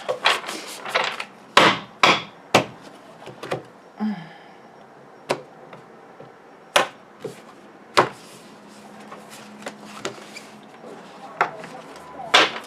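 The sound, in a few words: playing cards banged on a table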